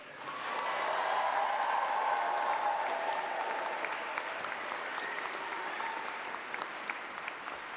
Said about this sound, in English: they made a very, very loud cheer at this point